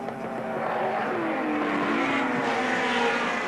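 Touring race cars at Surfers Paradise circuit in the 1984 ATCC, a steady loud engine drone with shifting pitch sweeps as cars run down the straight, continuous throughout with no pauses.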